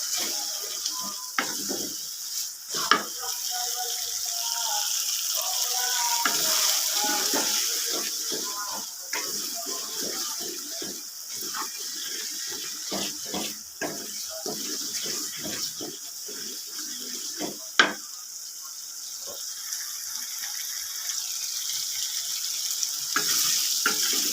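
Masala with tomato frying in a pan for chicken curry, a steady soft sizzle with frequent scraping stirs and clicks of a spatula, fairly close, with someone speaking quietly now and then over the cooking.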